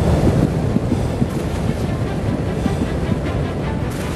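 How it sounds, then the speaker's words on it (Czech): Strong, buffeting wind roars steadily across the microphone during a skydiving freefall, a loud continuous rush with gusty fluctuations. "A konečně i důvěrně známé svištění větru."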